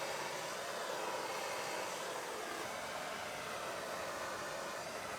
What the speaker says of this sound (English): Heat shrink the rest of our connections.